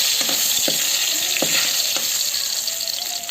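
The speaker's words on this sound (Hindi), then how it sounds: "तो दे मोर लहसुन हाँ भुंजात है" Garlic frying in a home kitchen pan, a steady bright sizzle with a few soft stirring scrapes and clinks, close and continuous throughout.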